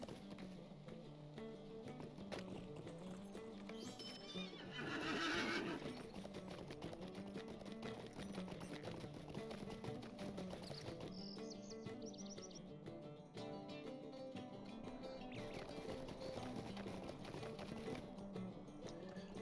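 A horse's hooves clop in a steady, quick rhythm during swift travel in Lord of the Rings Online, faint and continuous beneath game music and occasional bird chirps.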